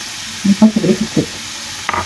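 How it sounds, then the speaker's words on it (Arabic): Liver pieces frying in a pan with a little oil for Alexandrian liver sandwiches, stirred with close, loud scraping and clattering bursts over a bright sizzle. "نقلب بقى كلها على بعضها."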